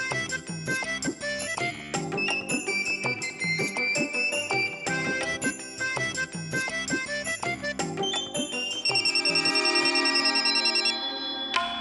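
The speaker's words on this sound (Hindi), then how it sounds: "आरती फोन क्यों नहीं उठा रही है?" A telephone rings with a steady, repeating electronic tone pattern running throughout, loud and alone, changing to a brighter tinkling ring near the end.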